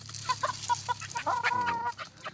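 Pet chickens cluck close by in a quick run of short, choppy calls, ending in a brief drawn-out squawk.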